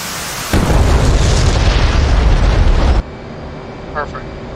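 A missile strikes in the DCS flight simulator game during an F/A-18 mission, bursting into a sudden loud explosion that roars for a couple of seconds and then cuts off, leaving a quieter cockpit hum.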